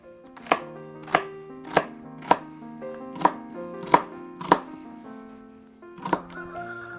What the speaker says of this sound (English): you probably just want to chop off the